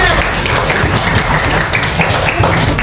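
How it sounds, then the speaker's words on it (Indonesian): Fourth-grade classroom at SDN Cibuluh 2 gives a classmate a round of applause, dense, loud, steady clapping from many children packed close together for a few seconds. "Beri tepuk tangan untuk temannya."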